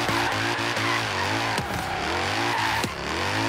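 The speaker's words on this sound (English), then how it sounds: "Just keep drifting as much as you can around these laps." Car drifting through repeated laps in Forza Horizon 3, with a steady engine drone rising and falling and tire squeal running continuously at close range, no talk over it.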